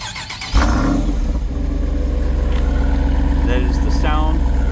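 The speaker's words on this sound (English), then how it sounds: "That is the sound of a 392 inside of a Wrangler." A 392 V8 in a 2023 AEV Level 2 Jeep Wrangler 20th Anniversary on lifted 37-inch tires starts up and settles into a loud, deep, steady idle rumble, with brief faint voices or sounds over it.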